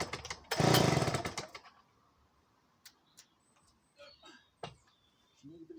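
A vintage Remington Bantam chainsaw gets one hard pull on its starter, a loud rattling burst lasting about a second that drops to near silence with a few faint clicks and small knocks afterward.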